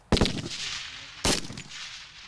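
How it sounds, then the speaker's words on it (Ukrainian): Automatic weapons fire live rounds at a military training range, two sharp loud bursts about a second apart, each trailing off into a rolling echo. "А тут уже стріляють бойовими."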